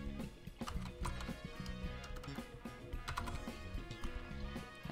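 Fast, irregular clicking of a computer keyboard as someone types field names into CAD software, close and crisp, with no voice over it.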